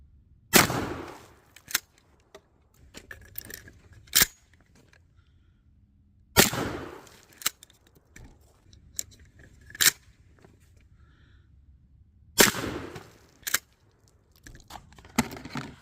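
A Remington 870 Express .410 pump shotgun fires birdshot, buckshot and slugs outdoors, three loud close reports spaced several seconds apart, each followed by sharp mechanical clacks of the pump action being cycled.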